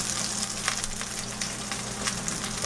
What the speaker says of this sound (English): So it's fried really good, and this fry is done without any oil, zero oil.